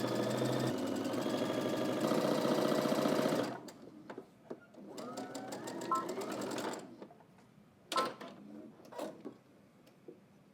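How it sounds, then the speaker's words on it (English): A sewing machine stitches a seam with a 5/8 inch allowance, a loud close steady mechanical whir for several seconds, then shorter stop-start bursts of stitching with clicks and fabric handling. "now we're just gonna head to the machine and stitch all the way across using 5/8 of an inch seam allowance"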